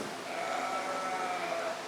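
Sheep bleating in a 4-H show ring, a sustained wavering bleat lasting nearly two seconds, fairly close and clear over faint arena background.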